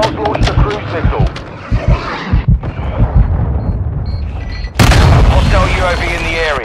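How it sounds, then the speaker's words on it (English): A cruise missile strike lands in a battle royale shooter, a sudden loud explosive boom with rumbling debris that follows scattered gunfire and game voice callouts. "Hostiles launched a cruise missile."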